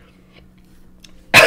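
In the Five Nights at Freddy's Sister Location horror game, one loud, harsh cough bursts out suddenly after near silence.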